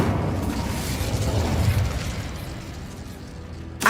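Incendio fire spell in Hogwarts Legacy: a rumbling, roaring burst of flame that swells and fades, then a sharp pop right at the end.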